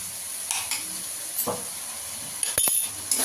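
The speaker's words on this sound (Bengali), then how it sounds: "রসুনটা দিয়ে ভালো করে একটু নেড়ে নেবো, কষিয়ে নেবো, রসুনের কাঁচা গন্ধটা চলে যাওয়া অবধি।" Garlic paste frying in a pan with browned onions for a chicken curry, a soft steady sizzle broken by a few scrapes and clinks of a spoon stirring against the pan.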